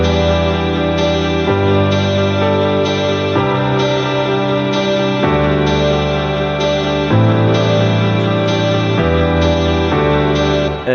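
Layered synth and guitar parts from a remix play an arpeggiated pattern together, dense and loud with reverb, the chords and bass shifting every couple of seconds in a steady electronic groove, with no voices.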